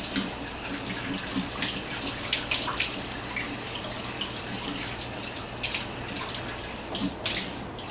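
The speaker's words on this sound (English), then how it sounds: "let me just wash out some things real fast" Tap water runs steadily into a kitchen sink while dishes are washed, a continuous close splashing rush with occasional brighter splashes and clinks.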